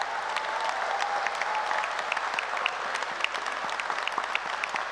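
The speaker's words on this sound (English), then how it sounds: "give yourself the loudest applause for your strength, your journey, and the recognition that you deserve" A graduation audience at Edinburgh Napier claps continuously in a dense, steady round of applause that fills the hall evenly from start to finish.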